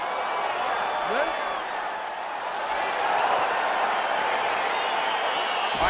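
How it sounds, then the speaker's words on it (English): Arena crowd in EA Sports UFC 4 cheering and roaring steadily throughout as a fight gets underway, a dense continuous wash of noise with no talk. "crowd getting excited as this fight gets underway"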